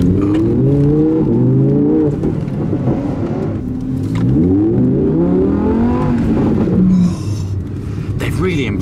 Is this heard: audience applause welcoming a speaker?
no